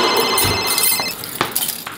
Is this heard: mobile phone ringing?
yes